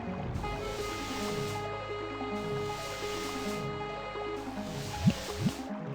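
Water gurgles and trickles into a cup in a video game, a soft steady filling sound with a few brief splashy blips near the end, faint and with no talk.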